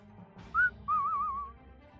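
A person whistles to imitate a signal whistle: a short rising note, then a longer wavering tone, clear and close against a quiet background.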